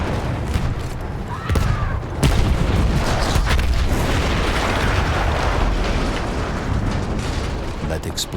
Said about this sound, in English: That explosion was one of the sweetest sights of the war for me.